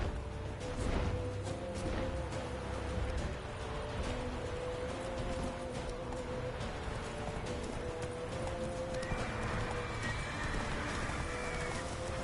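In The Witcher 3 video game, a horse gallops with steady, rapid hoofbeats over the game's background soundscape, and a brief whinny may be heard, all at moderate level.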